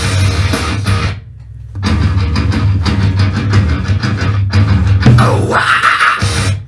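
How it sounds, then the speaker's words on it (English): A drum kit plays a groove, loud and driving with heavy kick and cymbals, a brief break after the first second, then a final fill ending on a high tom. "So on that high tom is where you're going to stop that."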